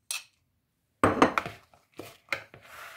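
Cooked quinoa is added to a salad of greens and tomatoes in a bowl, giving a few sharp clinks and scraping knocks of a utensil against the dish, close up and separated by short silences.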